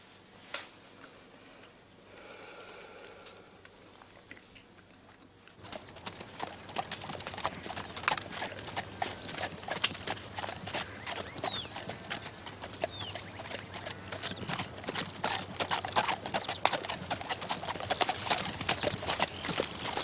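A lame horse's hooves, old shoes with new nails, clip-clop in a steady, close rhythm on a hard surface, starting after a quiet stretch and continuing throughout.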